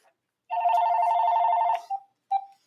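A telephone rings with one long, steady electronic trill that stops, then two short chirps, clear and nearby against silence.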